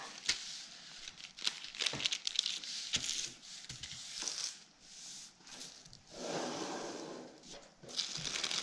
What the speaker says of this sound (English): So we'll start by folding in half.